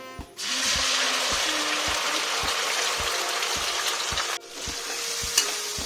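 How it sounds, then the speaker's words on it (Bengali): Ginger, garlic and onion paste fries with bay leaves in a hot kadai for a pointed gourd and egg curry, giving a loud, steady sizzle with soft stirring clicks and a brief dip partway through. "মশলাটা ভালো করে ভেজে নেব"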